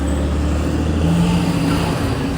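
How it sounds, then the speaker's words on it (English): A car engine drones loudly nearby, a steady low hum with a rising pitch as it revs and passes, continuous throughout with no talk over it. "you hear that engine?"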